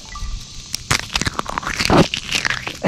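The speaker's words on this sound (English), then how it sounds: "Listen to this crunch." Footsteps crunch on dry ground during a hike near the Texas/Oklahoma border, with irregular, close crackling and scraping steps that come in quick, uneven succession.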